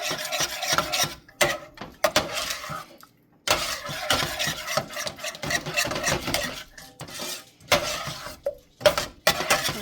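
A spoon stirs macaroni and cheese in a metal pot, the cheese melting into the pasta, giving continuous close scraping and rubbing strokes with brief pauses between bursts.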